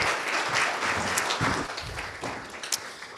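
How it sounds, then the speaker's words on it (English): An audience applauds, a dense crackle of clapping hands from a crowd that continues steadily for a few seconds. "Let's give her another round of applause"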